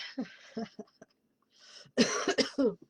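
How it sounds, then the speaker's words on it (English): A few harsh coughs come in bursts, loud and close, with short pauses between them and a quick rough cluster near the end. "I'm coughing after I breathe."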